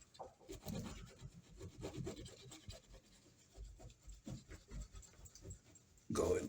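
A towel and a fingernail scrub shower caddy adhesive residue off a tile or tub surface in quick back-and-forth and up-and-down strokes, giving close, rhythmic rasping rubs, ending in a short louder knock.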